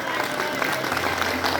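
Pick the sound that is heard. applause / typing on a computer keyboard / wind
applause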